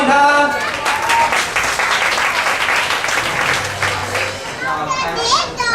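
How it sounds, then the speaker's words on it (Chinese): Applause from a church gospel dinner audience welcoming the community preacher: steady broadband clapping for several seconds, mixed with children's voices and chatter in the room. "掌声欢迎他"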